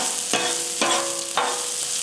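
Chopped white onion frying in oil on a griddle, a continuous bright sizzle broken by three spatula scrapes, close and loud with no voices.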